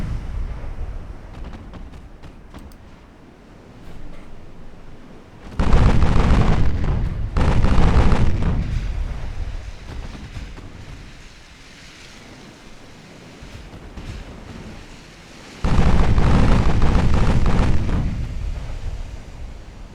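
Warship main guns firing in the Ultimate Admiral Dreadnoughts naval game: two heavy booming blasts several seconds apart, each rolling on for a couple of seconds over a constant rush of sea and wind.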